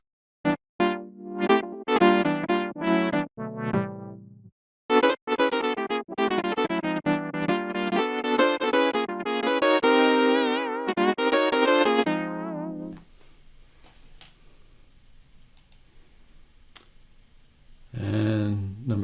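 A WindSynth sampled patch plays a minor 7 chord, sounding as loud, harmonically rich sustained synth tones in a rising run, with a short pause before a final fading tail.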